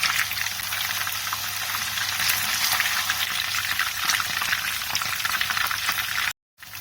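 Fish sizzles steadily in hot oil in a pan, a dense, even crackle and hiss that stays loud and continuous before cutting off abruptly near the end.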